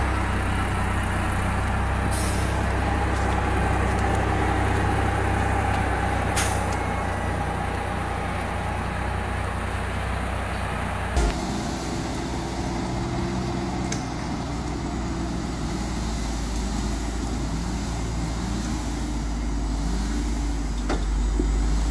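A two-axle truck crawls down a slippery, rocky slope, its engine droning steadily and close for the whole stretch, with a sharp clunk partway through and occasional creaks and knocks, no voices.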